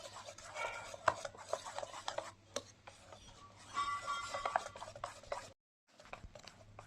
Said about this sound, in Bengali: আর একটু জল দিচ্ছি। আবার একটু ভালো করে গুলিয়ে নিচ্ছি।